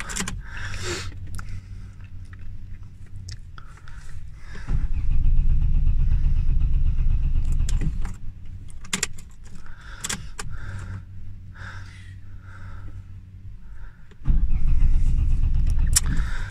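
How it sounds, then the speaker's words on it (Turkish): A car engine in a parking lot cranks repeatedly in long grinding bursts without catching, with pauses and small clicks between attempts, close and fairly loud. "Ben bir arabayı tekrar bir çalıştırmaya çalışacağım"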